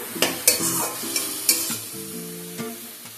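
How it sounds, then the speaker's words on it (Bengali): Fenugreek greens fry in a pan over a medium flame, with a steady sizzle punctuated by several close, sharp spatula scrapes. "মিডিয়াম ফ্লেমে মেথি শাকগুলোকে ভালো করে একটু ভেজে নেব"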